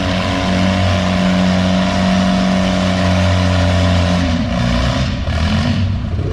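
A pulling tractor in the 3200 lb class roars at full throttle through a pull run, loud and steady with a heavy droning engine note throughout and no voices over it.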